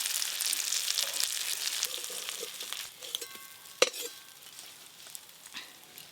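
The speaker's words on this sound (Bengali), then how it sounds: "চিংড়ি মাছগুলো ভালো করে ভেজে দিলাম।" Small shrimp frying in mustard oil, a close, steady hiss and crackle that fades somewhat partway through, with one sharp clack near the middle.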